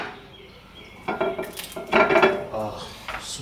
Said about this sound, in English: let's chop this up while it's